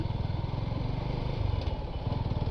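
A Suzuki Gixxer motorcycle runs with a steady, loud, pulsing engine drone from close by. No clear gear-shift clunks stand out and no one speaks.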